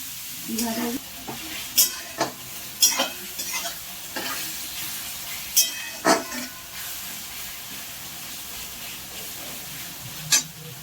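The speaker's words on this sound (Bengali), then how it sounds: "পেঁয়াজটা ভাজা গেছে লাল লাল করে।" Onions frying in oil in a pan, a continuous close sizzle broken by several sharp scraping stirs spaced every second or two.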